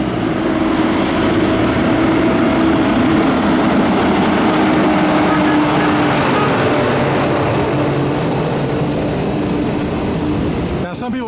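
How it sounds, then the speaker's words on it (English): Street traffic with trucks and cabs in the Dominican Republic: a loud, continuous engine drone with a steady low hum running the whole stretch, ending in a brief rattle or knock at the very end. "why are you taking videos of a truck or a cab?"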